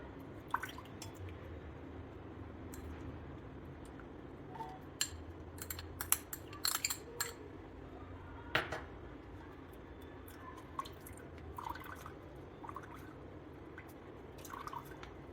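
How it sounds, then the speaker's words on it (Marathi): Homemade Holi color liquid drips as it is strained: soft, irregular droplets and splashes fall at close range over a faint steady background hiss. "आपण हा कलर गाळून घेऊया."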